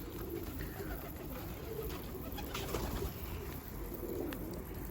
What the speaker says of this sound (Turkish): Kuşlar hep keyifte ya.